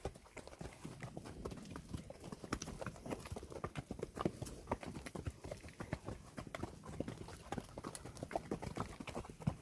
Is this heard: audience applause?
no